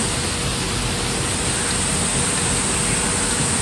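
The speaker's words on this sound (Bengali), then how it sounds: "বৃষ্টি পড়ছে" Rain falls steadily outdoors near a villa by the Ganges at Raichak, a dense, even hiss that fills the air at constant loudness with no voices.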